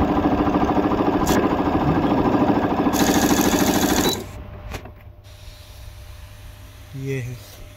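A Japanese electric sewing machine with many built-in designs runs a simple straight stitch, its steady mechanical whir loud and continuous for about four seconds before stopping, with a person talking over it and afterward.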